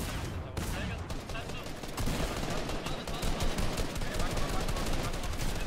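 Rapid gunfire from a competitive shooter video game fills the clip, dense bursts and cracks continuing loud and steady throughout.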